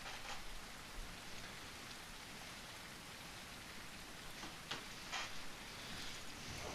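Steady rain falling in a video game, a dense even hiss of drops on surfaces with a few brighter spatters, continuous and moderately quiet with no talk.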